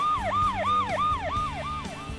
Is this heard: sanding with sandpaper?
no